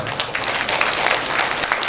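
A dense wash of applause fills the air as an audience at a Ram katha religious discourse claps steadily together, a continuous crackle of many hands with no pauses.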